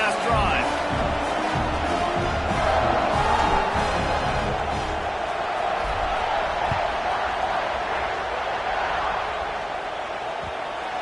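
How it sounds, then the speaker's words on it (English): A large stadium crowd at a college football game, a continuous loud roar and cheer filling the background under a commentator talking over it. "this crowd is feeling themselves after that last drive"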